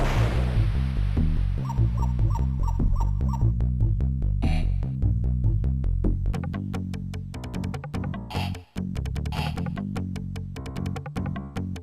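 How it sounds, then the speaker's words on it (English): Sega Jurassic Park game soundtrack with a tribal feel, steady low droning music layered with rhythmic percussive hits and animal-like growls and whimpers throughout, loud and continuous. "They both have this tribal kind of sound with random nature sounds and animal growls."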